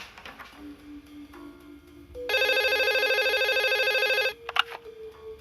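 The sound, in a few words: telephone ringing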